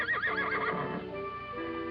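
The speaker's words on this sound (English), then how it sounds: "I'm afraid we're going to have trouble with that loco stallion." A stallion lets out a loud, wavering neigh that rises and then trails off over about a second, followed by quieter breathy snorting, with no voices.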